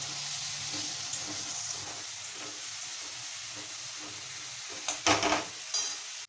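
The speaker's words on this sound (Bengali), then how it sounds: "রসুন বাটাও একটু বেশি করেই দেবেন দিয়ে এটা ভালো করে একটু ভাজা ভাজা হবে" Garlic paste fries in a pan with a soft, steady sizzle, joined by stirring scrapes and a few louder utensil knocks near the end.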